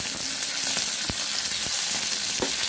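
Tomatoes go into a pan of frying drumstick curry with a steady, loud broadband sizzle throughout, broken by a few sharp clicks and stirring taps.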